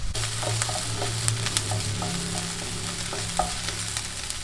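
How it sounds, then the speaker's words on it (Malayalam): Ginger garlic paste fries in hot oil in a pan for chicken momos, a continuous moderate sizzle with scattered spoon taps and stirring clatter, no talking. "അതിലോട്ട് ഇഞ്ചി വെളുത്തുള്ളി പേസ്റ്റ് ഇട്ടു."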